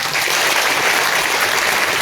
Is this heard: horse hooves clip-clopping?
no